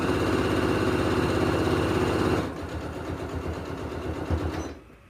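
Home sewing machine stitching fabric across a thick hump of layered seam, a steady loud mechanical whir for about two and a half seconds that then drops to a slower, quieter run before stopping.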